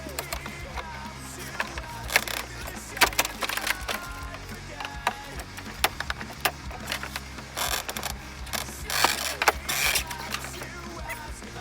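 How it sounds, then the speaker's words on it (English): A bathtub being shoved and wrenched loose during demolition of a vintage RV interior, with irregular scraping, creaking and knocking bursts over a low background rumble, close by. "Let's see if we can actually move this tub."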